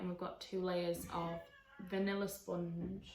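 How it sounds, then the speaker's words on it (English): A pet cat meows a few times in a home kitchen during cake decorating, short nasal cries mixed in with someone talking close by. "that was my cat"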